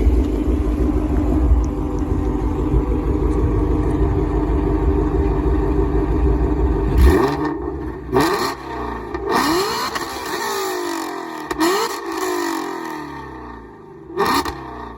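A sports car engine drones steadily, then revs hard in several sharp rising bursts, each climbing and dropping quickly, loud and close with scraping undertones.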